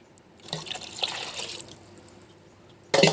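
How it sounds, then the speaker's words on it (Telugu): Milk is poured into simmering ragi porridge, a splashing, trickling pour that swells for about a second and then fades, followed by a sudden louder burst of liquid noise at the very end. "పోసిన తర్వాత ఇందులో మిల్క్ పోసేసుకుందాం"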